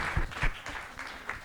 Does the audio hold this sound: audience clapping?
yes